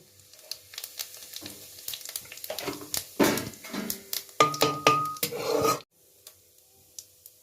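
Cardamom and whole cumin seeds sizzling in hot ghee in a pan for moong dal, crackling bursts that swell and fade, with stirring scrapes before the sizzle cuts off near the end.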